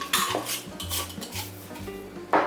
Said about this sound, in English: I'm going to stir it and cover it and turn it on high